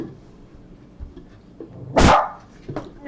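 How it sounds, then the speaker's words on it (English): A house dog gives one loud, close bark burst followed by a softer short yip, in an otherwise quiet indoor room. "Yeah, Marble, you're right to bark at that."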